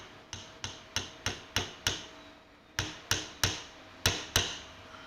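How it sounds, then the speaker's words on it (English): A hammer taps sharply in two runs of evenly spaced strikes, about a dozen in all, close and crisp with a short pause between runs. "just grab a hammer, tap that in a little way, not too much"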